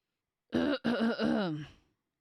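A man clears his throat in a single gruff, voiced rasp that breaks briefly and trails off, close and alone against silence.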